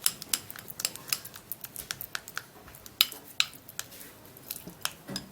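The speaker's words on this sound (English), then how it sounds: "When your avocado is very ripe, it's not going to be difficult to mash." A fork or utensil mashes a very ripe avocado in a bowl, making repeated soft clicks and taps against the dish at an uneven rhythm, close and fairly quiet.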